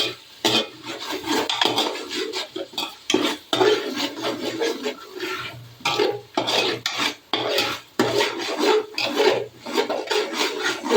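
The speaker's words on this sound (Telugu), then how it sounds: "అందులో పెరుగు బాగా మిక్స్ అయినట్టు ఇలాగ కలుపుకోవాలి" A spoon rasps and scrapes steadily around a pot as curd, chilli powder and turmeric are mixed into cooked tomatoes for biryani, in repeated close rubbing strokes with brief pauses and no talking.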